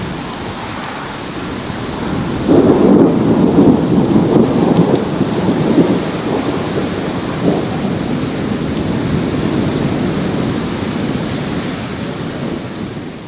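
Steady rain pours down while deep thunder rumbles loudly for a few seconds, then the downpour continues on its own.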